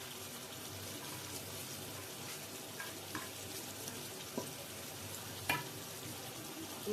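Potato curry (alur dom) is stirred in a pan, a faint, low hiss of gentle cooking with a handful of soft scattered clicks and scrapes.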